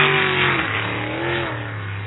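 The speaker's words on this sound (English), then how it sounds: "Doug with his trademark throttle feathering" Sprint boat engine at a pro racing series event, loud and close, revving steadily with repeated throttle feathering that makes the pitch dip and climb in waves.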